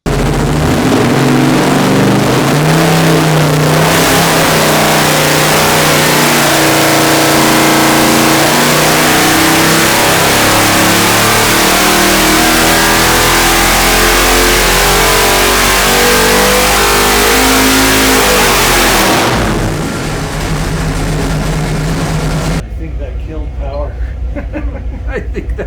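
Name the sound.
rebuilt 454 engine revving on a dyno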